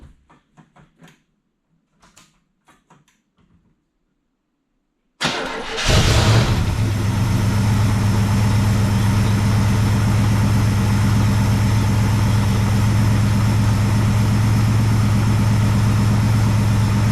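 An engine with a freshly rebuilt Holley 2 barrel carburetor cranks and catches, then settles into a loud, steady idle that holds to the end after some quiet shuffling beforehand.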